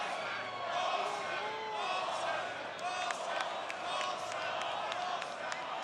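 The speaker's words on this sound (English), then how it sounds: "Crowd letting Corbin Kirk know he's misfired with 6 straight pitches" A college baseball crowd reacts as a pitcher misses with six straight pitches, a broad murmur of jeers, claps and shouts from the stands under steady play-by-play commentary.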